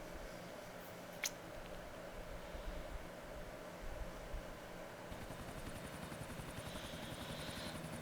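Helicopter flying in the video game GTA IV, a steady whirring rotor drone with low thumping that holds throughout with no talk, shifting slightly in tone midway.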